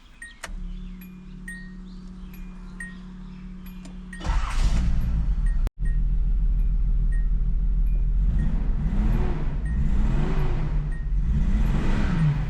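A 1981 Datsun 280ZX engine, freshly fitted with a replacement alternator, starts up and is revved several times in a steady rising and falling pattern, heard close and loud with no talk.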